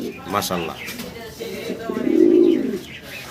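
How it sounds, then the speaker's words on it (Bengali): A male pigeon coos up close, a low, drawn-out throaty call, after a brief stretch of cooing and rustling. "এই যে কবুতরের পায়রার যে ডাক"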